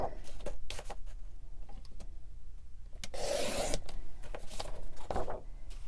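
Cardstock paper being trimmed to size on a craft paper cutter, repeated close scraping and sliding strokes with a louder rasping pass midway.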